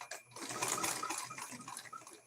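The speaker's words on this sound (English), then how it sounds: "Snow day is a good day to sew, Lucille." A sewing machine stitching fabric coasters runs in a continuous whirring, rattling burst up close, quiet overall, slowing slightly toward the end.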